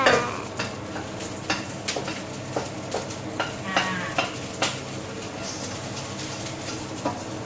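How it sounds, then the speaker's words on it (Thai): Shallots and garlic frying in a pan for broccoli soup, a steady sizzle under repeated sharp clinks and scrapes of a utensil against the pan, close by, with faint background voices. "เอาหอมแดงใส่ลงไป ทอดเกียวก่อน"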